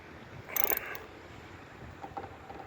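Battery terminal being retightened on a 1999 Chevrolet Malibu, a short burst of metallic ratcheting clicks followed by a few faint taps, quiet and close with no talking.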